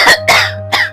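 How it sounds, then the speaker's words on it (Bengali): Three harsh, loud coughs burst out in quick succession close to the microphone from a person who is unwell, each a short rasping blast followed by a brief gap. "শুলেই কাশি হচ্ছে প্রচুর,"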